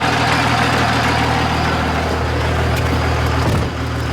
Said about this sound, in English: I know this truck is super loud, but it's because my exhaust is like downpipe to the turbo